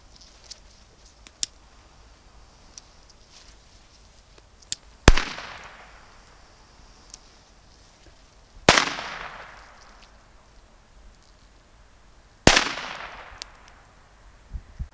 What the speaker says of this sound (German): Comet Pyro Cracker mit Tiger Logo.